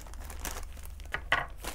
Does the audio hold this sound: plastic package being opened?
yes